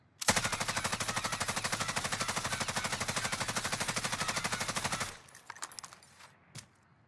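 An assault rifle in Warzone loaded with stopping power rounds fires one long unbroken burst for about five seconds, rapid and loud, followed by a few scattered clicks and a final sharp report.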